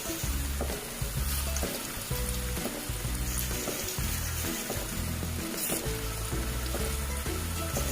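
Pieces of usel dough fry in hot oil, giving a steady, close sizzle and bubbling with some rhythmic low knocking underneath, heard with no talking.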